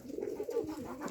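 Pigeons coo steadily in a low, rounded, repeating murmur close by, the soft calls overlapping for the full stretch with no talking.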